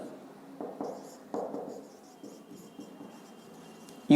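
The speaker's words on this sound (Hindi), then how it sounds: "नेक्स्ट मैं यहाँ पे लिखता हूं" A teacher writes on a classroom board during a Class 10 lecture, producing faint scratchy strokes in short uneven bursts over a quiet room hum.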